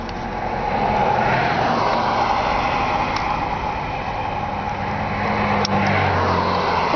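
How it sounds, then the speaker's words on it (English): A car engine runs steadily with a loud, even rumble heard up close, as if from inside the vehicle, with no voices. "Guess I'll turn off my car too."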